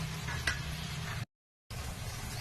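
Ash gourd halwa mixture with khoa being gently stirred in a pan, a steady soft scraping with faint sizzle, one brief louder scrape near the start and a short gap midway.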